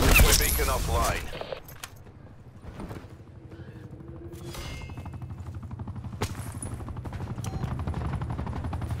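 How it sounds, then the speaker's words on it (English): Attack helicopter hovers overhead in a Hardpoint match of a first-person shooter video game, a rhythmic rotor chop continuing under bursts of gunfire, explosions and in-game voice callouts. "Establish an attack chopper above."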